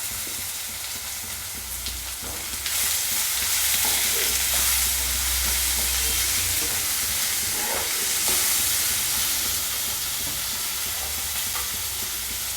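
Two chopped tomatoes sizzle and fry steadily in a pan with softened onion and ginger garlic paste, a loud continuous crackle that grows busier partway through, with no talking.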